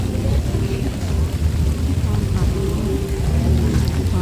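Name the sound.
rain falling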